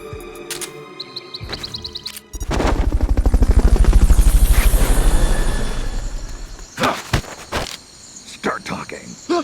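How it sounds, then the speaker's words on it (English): A helicopter in the video game Metal Gear Solid Peace Walker, its rotor chop swelling into loud rhythmic thumping and then fading, with sharp game sound effects before and after. "Fulton recovery subject confirmed onboard helicopter."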